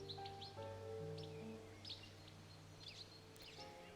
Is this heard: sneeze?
no